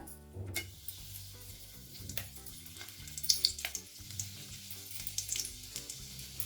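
Dried red chilies frying in hot oil over a medium flame for lemon rice, a steady low sizzle and crackle with faint scattered pops and light ticking, close and fairly quiet, no voices.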